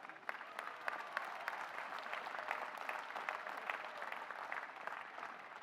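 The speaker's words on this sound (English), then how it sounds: "How about a warm round of applause for Bridgewater's finest?" Audience applause at a 2023 Bridgewater State University undergraduate commencement ceremony, a steady, dense wash of clapping from a large crowd that holds evenly throughout with no talk over it.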